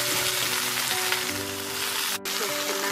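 Fried chicken pieces go into a pan of frying capsicum and onions for chilli chicken, making a continuous close sizzle with light tonal hums underneath and a brief dropout near the end.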